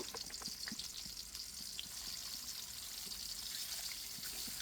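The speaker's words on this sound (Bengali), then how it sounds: "তেলটা গরম হয়ে গেছে। 3টা মাথাই একসাথে দিয়ে ভেজে নেব।" A steady, close sizzle of three tilapia fish heads frying together in hot oil, with crackles and pops over a constant hiss.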